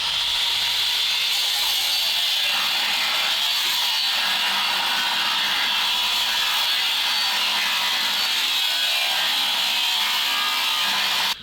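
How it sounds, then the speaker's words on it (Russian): An angle grinder saws through the metal of a tow truck's flatbed platform, its harsh, gritty rasp loud and unbroken for the whole stretch, with no voices. "Под своим весом болгарку отпускаю, и она сама себя пропиливает."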